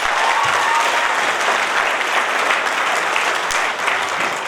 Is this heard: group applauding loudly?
yes